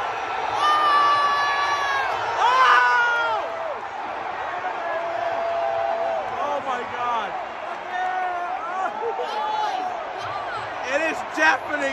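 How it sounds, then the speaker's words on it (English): A big WrestleMania arena crowd cheers and roars continuously, with voices talking close over the din. "Do you hear the crowd?"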